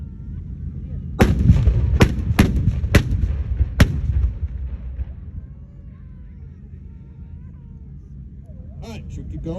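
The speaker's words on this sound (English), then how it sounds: "they're going to fire one vehicle down the line at a time. So it's going to be simultaneously fire with the cannons and the main guns." Military tanks at a weekend display fire their cannons and main guns one vehicle at a time, five loud booming blasts in quick succession with rumbling echoes, then a fading low rumble and distant crowd murmur.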